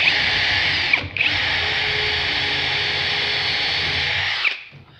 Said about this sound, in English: pilot, drill it, screw it, and move on to the next one